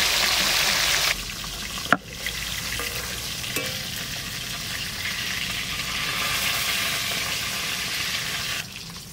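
Shol fish fries in oil in a village-style kitchen, a loud steady sizzle broken by a sharp utensil knock and a brief dip, then the hiss continues evenly at close range without speech.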